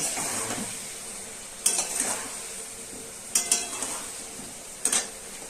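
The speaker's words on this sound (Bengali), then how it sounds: "ভালো করে নাড়িয়ে দিতে হবে" Cumin and salt are stirred into cauliflower, potatoes and egg in a pan, giving a soft sizzle under three sharp scraping clatters of the spoon against the pan at roughly even intervals.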